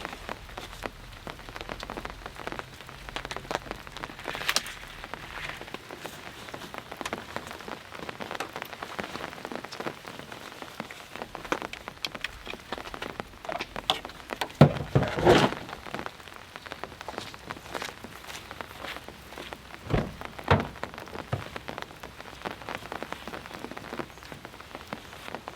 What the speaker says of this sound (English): Since then, it has been raining, but it's been really, really light.